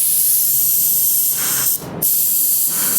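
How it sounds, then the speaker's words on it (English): A continuous pressurized hiss of a DV1 spray gun spraying FC720 clear coat at 27 psi, loud and close, with a brief pause near the end before it resumes. "I like 27 pounds of pressure. I think it sprays really nice."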